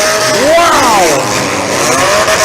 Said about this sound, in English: These guys are all over the rev limiter.